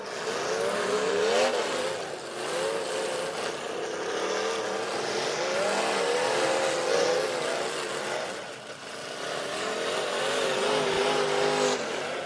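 Demolition derby cars at a 2018 event rev and roar continuously for twelve seconds, engines rising and falling in pitch, fairly loud with a brief dip midway and no clear impacts standing out.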